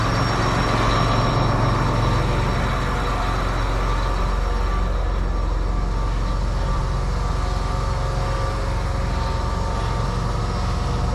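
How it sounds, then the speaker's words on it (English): A farm tractor engine idles steadily and loudly close by, a continuous low rumble with no talking. "I'm gonna leave the tractor running in case I gotta lift it up again."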